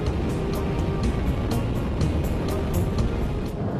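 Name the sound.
Daihatsu Sirion accelerating on the motorway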